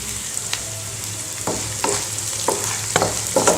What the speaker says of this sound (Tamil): வெங்காயம் வதங்கினதுக்கப்புறம் ஜீரகம் போட்டிருக்கேன்.